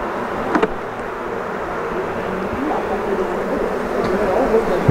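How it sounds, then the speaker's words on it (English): Honey bees buzz on a lifted hive frame during a beekeeping workshop, a steady diffuse hum close by with a few brief louder bumps and handling noises. "that frame still has a lot of bees on it"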